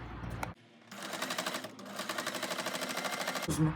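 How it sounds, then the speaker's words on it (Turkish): A sewing machine runs a full-round zigzag stitch along a round-bottomed bag lining, its needle chattering in a fast, steady rhythm for about three seconds after a brief start and pause, close and clear with no talk. "Tam tur zikzak bir dikiş yapıyor olacağım."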